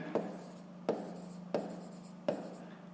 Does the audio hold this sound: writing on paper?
yes